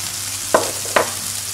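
Olives drop into a hot frying pan with bell peppers for a vegetarian pasta, two sharp clatters over a steady, loud sizzle.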